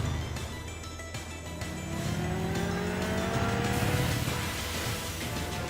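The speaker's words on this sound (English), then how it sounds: "I forgot Link has a motorcycle." A motorcycle engine in an animated fight between Link and Cloud revs and climbs in pitch over loud action noise, with tire squeal and a rising whine, close and fairly loud.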